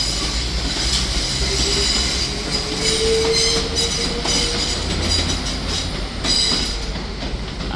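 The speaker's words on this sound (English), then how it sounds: "departing out now is the Northern Rail service to Manchester Airport" Northern Rail train pulling out of Manchester Piccadilly station toward Manchester Airport, a steady rumble of wheels on rails with a thin squeal and faint clickety-clack, close and continuous.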